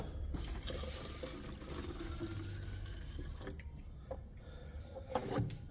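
Water pours steadily into a container while a cola-flavoured creatine drink with electrolytes is being mixed, a continuous close splashing fill with a few brief knocks near the end.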